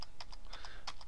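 Quick bursts of typing on a computer keyboard, about eight or nine light key clicks in rapid, uneven succession, close and fairly quiet, with no talking.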